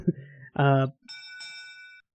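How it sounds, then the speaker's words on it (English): A ship's bell aboard a vessel in the game Ark Ragnarok rings once with a sustained, clear metallic tone that fades over about a second, following brief game sounds. "got our bell"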